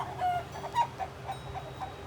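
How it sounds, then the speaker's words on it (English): Several chickens cluck and squawk in agitation inside a chicken shed, short excited calls overlapping in an irregular, moderately near chorus with no talk. "Chicken apparently just had a moment. And now they're all going to go bonkers."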